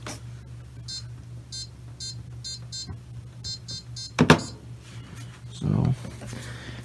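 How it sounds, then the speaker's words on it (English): Control panel buttons on a Maytag dryer in diagnostic mode give short electronic beeps, about eight spaced chirps over a steady low appliance hum, with a thud and a brief rustle later on. "if you press buttons, it makes beeps"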